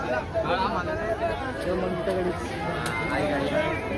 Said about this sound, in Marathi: मोठी गर्दी आहे.